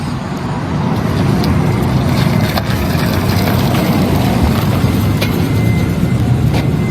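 Cars roll in toward the Bilderberg meeting venue in Washington DC, a steady, close rumble of engines and tire noise on the roadway that fills the whole stretch without pause.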